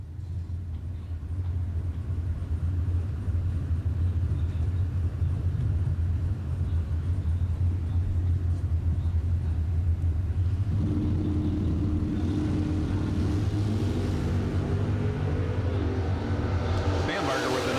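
Two bracket drag racing cars launch and roar down the strip at a distance, a steady heavy rumble that swells and brightens toward the end, with an announcer talking over it.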